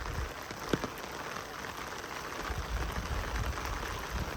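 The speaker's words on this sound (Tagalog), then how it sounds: "Lakas ng ulan." Heavy rain pours down steadily in a dense, close hiss of drops striking surfaces, loud and unbroken throughout, with one sharper tap partway through and no talk.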